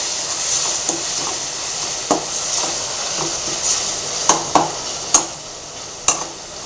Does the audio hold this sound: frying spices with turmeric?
yes